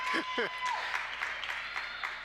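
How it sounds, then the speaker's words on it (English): Sarcastic cheering from basketball fans at a high school girls' game on senior night, a short burst of crowd applause and whoops in a gym, with a voice and an arena horn tone over it. "BG fans with a sarcastic cheer"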